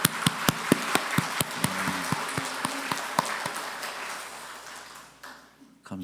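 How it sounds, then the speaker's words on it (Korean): A church congregation at a Sunday service claps to welcome newly registered members, a short run of sharp, evenly spaced claps that thins out and fades after about five seconds. "우리 박수로 환영하도록 하겠습니다"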